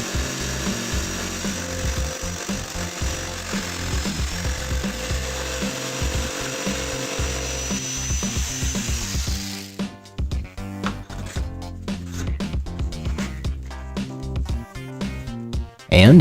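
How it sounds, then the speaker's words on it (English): A jigsaw cuts out the center of a wooden downdraft sanding table top, starting from a drilled hole; a steady loud buzzing cut runs for about ten seconds, then gives way to choppier, intermittent rasping strokes. "then I used the jigsaw to finish cutting out the center"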